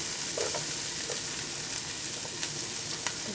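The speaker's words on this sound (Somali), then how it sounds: "basasha waan ku shubayaa." Onions sizzling as they fry in a cooking pot, a steady close crackle with faint stirring clinks, no voices.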